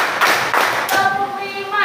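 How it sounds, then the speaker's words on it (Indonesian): A school class of seventh-graders claps hands together in counted sets, sharp group claps landing in a steady rhythm, close and loud, with a teacher's voice speaking between them. "Tepuk satu, tepuk dua, tepuk tiga, tepuk empat"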